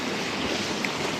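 Tent fabric rattling and flapping in strong wind at a wild camp on a slope in the Yorkshire Dales, a steady broadband rush with no distinct beats, continuous throughout.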